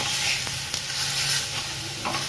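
Green peas, boiled beforehand, cook in hot oil in a pan, giving a steady soft sizzle with faint stirring scrapes, close and continuous with no voices.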